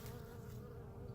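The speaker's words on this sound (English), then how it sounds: "here's a couple bees" A couple of honey bees buzz near the entrance of a beehive in November, a soft, close insect drone that holds steadily without pause.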